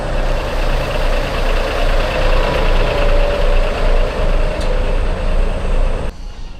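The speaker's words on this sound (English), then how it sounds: "let's hop back on the bus and go to our next destination" A tour bus engine at the DMZ on the North Korean border runs in a loud, steady rumble with a faint pulsing drone, continuing without talk until an abrupt cut near the end.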